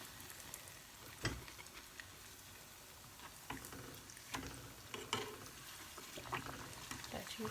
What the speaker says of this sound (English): I will continue frying this off.